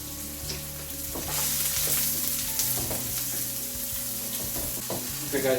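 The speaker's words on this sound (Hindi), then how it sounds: "इसको हम तो फ्राई करेंगे अनियन को" Finely chopped onions frying in oil in a pan for a lamb neck curry, with a loud continuous sizzle and occasional stirring scrapes and clinks close by, no voices.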